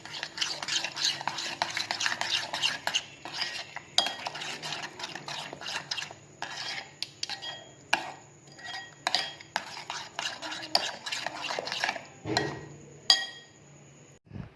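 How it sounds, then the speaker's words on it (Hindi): A spoon stirs a marinade paste of lemon, white vinegar and other ingredients in a bowl, producing rapid, repeated clinks and wet scraping in bursts, loud and close, with pauses between rounds. "सारे इंग्रेडिएंट्स को अच्छे से मिक्स करेंगे"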